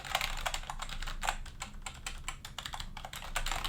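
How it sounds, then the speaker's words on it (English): Typing on an NPET G11 membrane gaming keyboard recorded about three feet away, a rapid irregular stream of clacking keystrokes, fairly loud and steady throughout, no talking. "let me give you a quick sound test"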